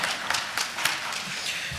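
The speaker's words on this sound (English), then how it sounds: "that merits another round of applause" A round of audience applause at a city council chamber honoring a state representative, brisk continuous clapping from a gathering with a few louder individual claps standing out.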